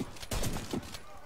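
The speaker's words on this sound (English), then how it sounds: "That's a grenade." A grenade bursts in the video game Warface, a heavy thudding blast followed by a rumbling, crackling tail with a few smaller hits after it.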